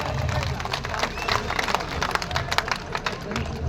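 A crowd at a protest rally outside the Shimla legislative assembly applauds to welcome a speaker, producing a dense wash of clapping with murmuring voices and speech mixed in.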